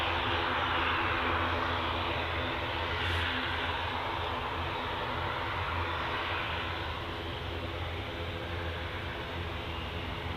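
A TUI Boeing 737-800 airliner roars steadily as it departs, a loud, continuous broadband jet rush with a low engine drone that holds evenly throughout and fades only slightly toward the end.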